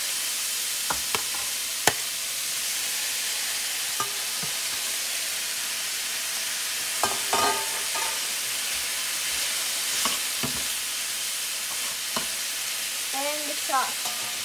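Beef stir-fries in black pepper in a hot pan, with a steady loud sizzle throughout and occasional scrapes and clacks from stirring.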